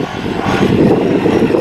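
A four-stroke snowmobile engine drones loudly and roughly for a moment, rising slightly in strength, heard close and outdoors in a snowstorm.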